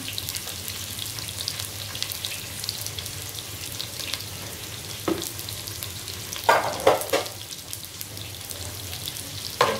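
Onions frying in a pan for a hilsa fish curry with radish, a close, steady sizzle broken by a few sharp spatula scrapes and clinks toward the end, with no voices.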